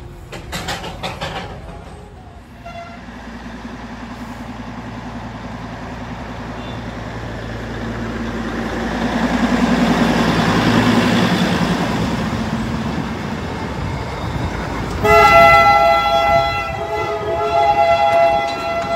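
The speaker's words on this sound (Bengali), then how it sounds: "ঐতিহ্যবাহী ট্রেন," A Darjeeling heritage train with a diesel engine passes close by, its engine drone swelling loud and then easing, followed near the end by a sharp blast of the horn.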